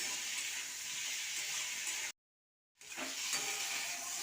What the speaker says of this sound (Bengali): চিনিটা দিয়ে নাড়াচাড়া করে ভালো করে নাড়িয়ে ভেজে নেবো